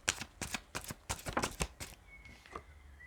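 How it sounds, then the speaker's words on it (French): Tarot cards are shuffled with quick, close riffling flutters and soft slaps as cards fall, in rapid bursts for about two seconds before fading to quiet. "c'est vrai que les cartes tombent au fur et à mesure"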